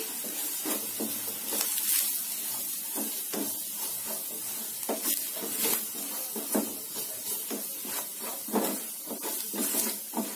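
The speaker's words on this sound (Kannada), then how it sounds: "ನೋಡಿ ಎಲ್ಲ ಚೆನ್ನಾಗಿ ಫ್ರೈ ಆಗಿದೆ, ಮಿಕ್ಸ್ ಆಗಿದೆ." Onions and masala powders fry in a pan on a low flame while a palak curry is prepared, giving a steady close sizzle broken by frequent irregular scraping strokes of stirring throughout, with no talking.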